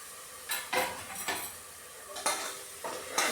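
Onion, green chilli and ginger sautéing in a pan for chickpea curry, with a soft sizzle under a handful of scraping spoon strokes against the pan, fairly quiet, no talking.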